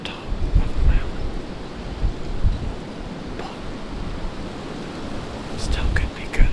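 Gusty wind buffeting the microphone on a mountain top during a deer hunt, a low rumbling roar that swells and eases, with a few faint rustles and ticks.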